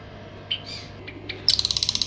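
Small pet birds for sale chirping, first a few scattered sharp calls and then a quick rhythmic run of repeated bright chirps, close and clear with no talking.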